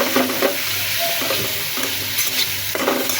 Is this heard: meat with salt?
yes